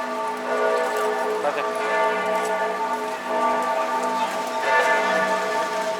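Cathedral bells in Florence, Italy ring steadily with layered, sustained tones, fairly loud, over a faint murmur of people and background noise.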